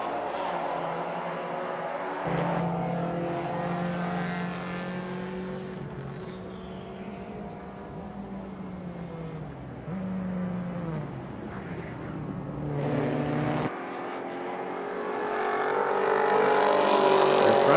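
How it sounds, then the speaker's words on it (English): Vintage race cars, including a Corvette, racing at Indianapolis in an SVRA event; engines drone with shifting, sweeping pitch as cars accelerate and pass, the roar rising and falling and swelling louder at the end. "the 57 of Roberts in the Corvette, now being chased by the 7A of Nash."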